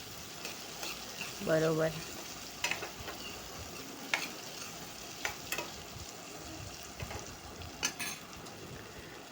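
Chopped cluster beans stirred in a pan, with a faint sizzle under scattered clinks and scrapes of a metal spoon against the pan and a short spoken word early on.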